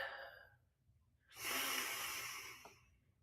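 A single deep breath drawn in loudly and close, a long rushing inhale-exhale lasting under two seconds, following a fainter earlier breath and ending in quiet.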